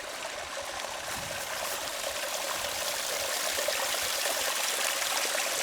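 Water from a spring runs and trickles steadily near the ground where watering cans are filled for garden plots, a continuous bright rushing flow with no voices and no break for the whole stretch.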